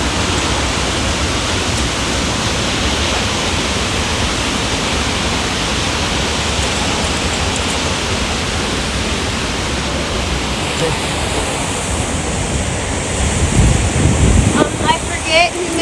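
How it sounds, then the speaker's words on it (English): A waterfall roars in a steady, loud, broadband rush with a buffeting wind on the microphone, unbroken across the whole stretch. "This might be the best waterfall we've ever seen."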